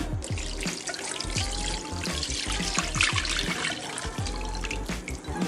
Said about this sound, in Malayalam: 2ാം പാല് ഒഴിക്കുന്നുണ്ട്